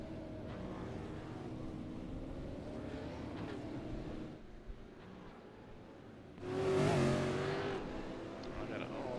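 Supercars race car engines leaving pit exit at Phillip Island in iRacing: a steady layered engine drone, then a louder surge as a car revs past near the end, fairly faint overall.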